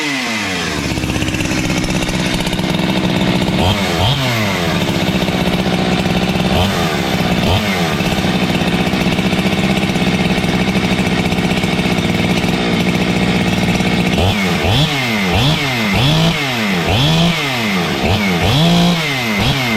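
A ported, high-compression Husqvarna 365 chainsaw runs loud and close, holding a steady high-pitched drone with repeated sharp revving surges, more frequent toward the end.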